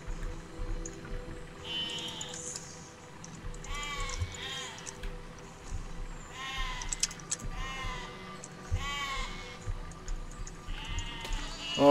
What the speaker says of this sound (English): Have I got to kill all the sheep?